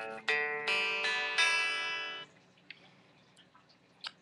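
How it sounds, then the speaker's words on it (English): A guitar in drop D tuning plays a few bright, ringing plucked notes in quick succession, then fades into quiet scattered clicks and faint noise, with no talking. "first off, it's in drop D, which sounds like this."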